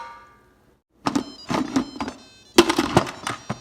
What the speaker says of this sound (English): closing the lid.